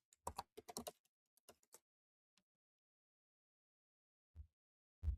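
Brief keyboard typing heard as two quick clusters of close, crisp keystrokes in the first two seconds, followed by quiet and a few isolated soft thumps near the end, with no talking.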